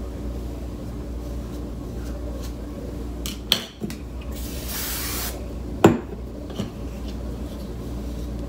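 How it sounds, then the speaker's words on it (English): A single quick spray hiss from a spray bottle of detangler onto a synthetic wig, brief and close, with a few clinks and taps around it in a quiet room. "I'm gonna spray just a little bit right there"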